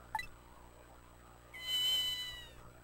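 A cat meowing in the video game Ghost Trick: a brief call at the start, then a longer, clear meow a second later, alone over a soft game hum.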